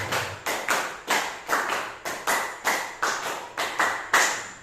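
A room of participants claps in unison for a counted concentration routine at an elementary school session, with roughly three quick sets of five sharp, near claps in steady rhythm and no talking.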